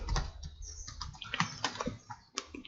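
Fingers typing on a computer keyboard, a close run of light irregular clicks and taps with short pauses between bursts, no talking.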